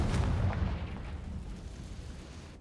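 A Confringo blasting spell explodes in Hogwarts Legacy, one deep rumbling boom that rolls and slowly fades over a couple of seconds.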